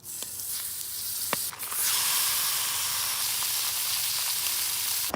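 Salmon and chopped potatoes hit hot oil and butter in a pan at a winter lakeside camp, bursting into a loud, steady sizzle after a few quiet clicks and light handling sounds, with no talking.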